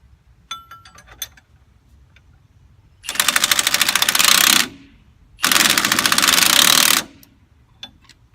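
A pneumatic impact gun hammers loudly in two sustained bursts of about one and a half seconds each, separated by a brief pause, after some faint clinks, while installing a third-generation Camaro control arm with a spring compressor.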